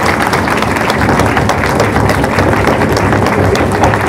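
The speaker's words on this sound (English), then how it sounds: "let's give a quick round of applause for Dash" Applause in a courtroom at the close of a hearing, a dense continuous round of clapping from a crowd, loud and steady throughout without a break.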